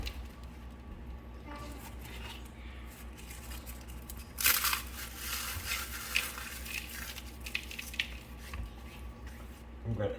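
Crackers are crushed by hand for old-fashioned salmon patties, with soft crunching and crinkling that builds to a louder burst midway, while a person speaks nearby.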